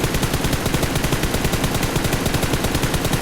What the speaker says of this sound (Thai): แล้วก็ฝึกยิงก่อนครับ พยายามฝึกปืนให้มันนิ่งครับ